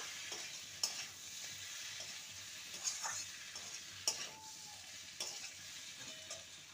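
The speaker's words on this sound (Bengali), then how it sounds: "ভালো করে নেড়ে নেব।" Fried ivy gourd (kundri) tossed with chaat masala in a pan, a quiet continuous sizzle with regular spatula clinks and scrapes every second or so, heard close with no speech.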